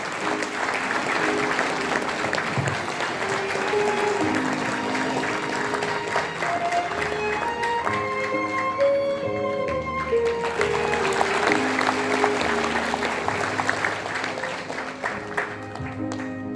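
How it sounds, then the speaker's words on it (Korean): An audience at a book launch event applauds warmly for a performer, steady dense clapping sustained throughout over background music, fairly loud and close. "뜨겁게 박수 부탁드립니다."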